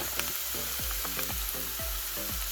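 Maitake mushrooms with shallots and thyme sauté in a pan, a steady close sizzle punctuated by repeated stirring scrapes and soft clatters at an uneven rhythm, with no talking.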